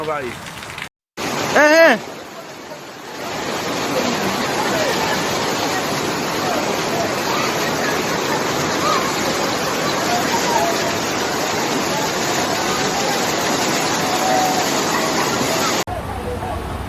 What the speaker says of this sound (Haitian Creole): L'eau envahit net, envahit.